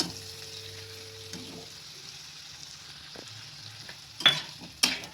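Ginger, green chili, coriander, cumin and fennel paste goes into hot oil, with a low quiet sizzle that builds into two sharp bursts of frying near the end.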